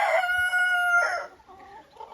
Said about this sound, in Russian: и тут петушки, и есть тут петух белый